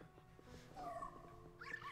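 A ghost puppy in the video game Luigi's Mansion 3 gives short whimpering, yelping dog cries that rise in pitch, heard clearly for about a second over a low game background.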